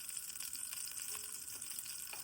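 Spices such as shahjeera sizzling and crackling in a little hot oil as an ivy gourd masala curry gets started, a steady bright hiss with small pops, close and uninterrupted.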